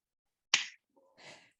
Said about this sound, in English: did you just clap? I did.